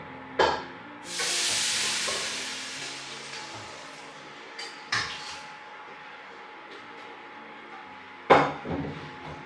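Meat and cassava (kolli) cooking down in a pot for a Kerala-style dish, giving a steady close sizzle with sharp metal scrapes and knocks of stirring at a few points.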